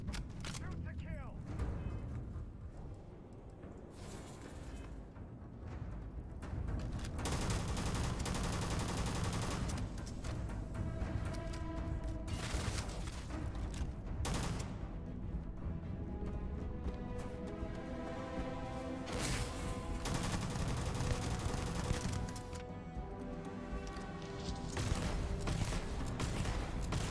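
Sustained gunfire from a Starfield battle, dense bursts and booms rolling on for many seconds amid a loud mix of game sound and music.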